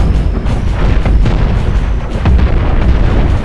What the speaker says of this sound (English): Oh, something just blew up.